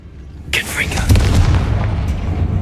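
A Confringo blasting spell bursts in an abandoned mine tomb in Hogwarts Legacy, a loud sudden blast with a crackling flash, followed by a sustained low rumbling roar that lingers to the end.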